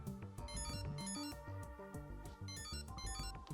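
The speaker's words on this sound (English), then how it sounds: "And then a phone rang." Phone ringing in the visual novel Chaos Child: a repeating electronic ringtone with bright chiming tones in steady bursts, loud and continuous over a game soundtrack, no voices.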